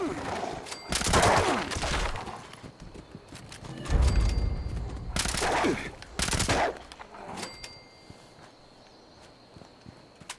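Thompson-style submachine gun in Fallout 76 fires in several short, loud bursts of rapid shots separated by quieter pauses, with faint background game noise in between.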